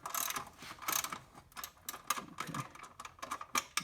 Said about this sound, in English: Works a lot better with the socket in.